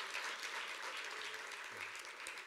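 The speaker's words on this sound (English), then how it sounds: "And a big round of applause," Steady applause from a crowd, a dense wash of clapping that holds at an even level throughout, heard at a moderate distance.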